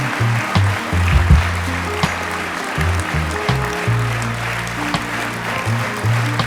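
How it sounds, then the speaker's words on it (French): Crowd applause at a public New Year's greetings ceremony in Beuvry-la-Forêt, a steady dense patter of clapping running the whole time under a low droning background. "Je t'invite à me rejoindre sous les applaudissements de la foule en délire."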